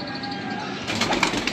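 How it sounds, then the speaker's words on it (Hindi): Domestic high-flyer pigeons coo softly in a loft as they are let out, a few low murmuring calls followed by a burst of fluttering wings close by. "ये दोस्तों सारे कबूतर अभी बाहर निकालते हैं हम"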